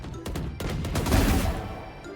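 Rapid gunfire from a Valorant gun with the Ora skin in a video game: a quick burst of close, loud shots followed by a denser rattling volley that fades out.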